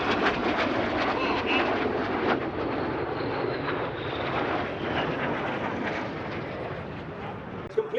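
Red Arrows jets flying an aileron roll at the Sywell airshow make a loud, continuous roaring rush that holds steady and fades slightly, with faint voices beneath.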